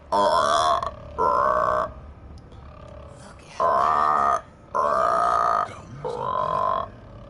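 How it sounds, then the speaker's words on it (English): A mining drill in the Mass Effect Andromeda video game gives off a series of deep, croaking, burp-like droning pulses, five or six bursts of about a second each with short gaps between them. "That drill kind of sounds like a burping frog."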